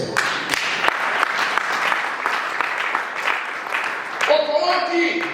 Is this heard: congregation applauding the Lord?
yes